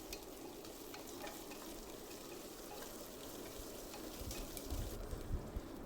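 Onion, green chillies and curry leaves fry in oil in a pan with a steady, dense sizzle, growing slightly louder and more crackly toward the end.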